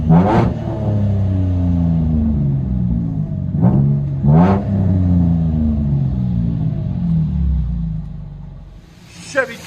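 Interior view of a 2013 Chevy Camaro V6 manual with true dual exhaust and Vibrant bottle resonators, revving in pouring rain: a deep rumbling drone with several sharp rises and falls in pitch, loud and close.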